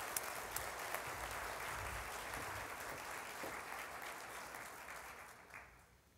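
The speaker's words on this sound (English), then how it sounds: "let's give them a warm round of applause while they set up." Applause from a conference audience at a presentation session, a steady broadband patter of clapping at moderate level that holds for several seconds and then thins out and fades toward the end, with no talking over it.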